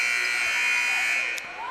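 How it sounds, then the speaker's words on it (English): At an eighth-grade boys basketball game in a gym, a loud, sustained electronic buzzer blares steadily for well over a second before cutting back slightly. "Buzzer sounds."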